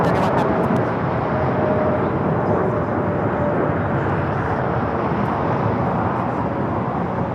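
A jet airliner at LAX, outbound to Seoul, fills the air with a broad steady engine roar, loud and sustained, with faint talk beneath.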